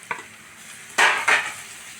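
Onions fried to medium in a pan with three green chilies and turmeric powder added, a soft sizzle under two sharp stirring scrapes near the end, with no talk.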